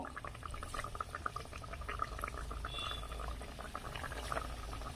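Semolina and coconut pithas bubbling in hot oil over a strong gas flame, three cakes in the pan, a continuous close crackling fizz with small popping bursts.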